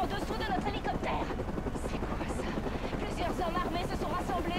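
A news helicopter hovers in the video game Batman Arkham Origins, a continuous churning rotor drone with a rapid chopping texture filling the scene while someone talks over it in French.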